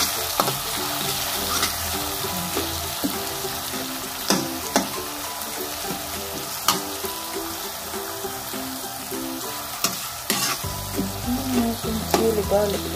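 Chili garlic paste sizzles steadily in a pan over low heat while being stirred, with sharp scraping clicks of the utensil recurring every few seconds over the continuous close frying hiss.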